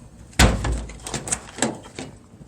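The door of a 1985 Toyota Celica Supra project car is opened with a sharp mechanical clunk, then smaller rattling latch and hinge sounds trail off close by.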